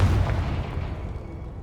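A Confringo blasting spell explodes in the Hogwarts Legacy video game: a loud, deep boom that hits at once and then rolls off as a low rumbling decay.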